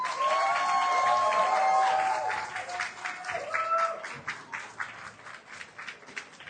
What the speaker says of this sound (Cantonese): 請大家俾啲掌聲兩位